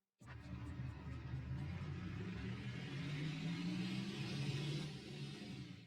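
A big car's engine driving over rough off-road terrain in the mobile game Offroad Masters, a steady mid-pitched rumble and whir that holds constant for several seconds, loud and alone.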